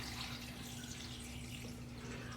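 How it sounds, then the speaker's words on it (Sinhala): Water is poured steadily into a pot of homemade vegetable soup, a continuous faint splashing rush with a low hum beneath, heard alone without talk. "මම වතුර කෝප්ප 4 මේකට එකතු කරනවා."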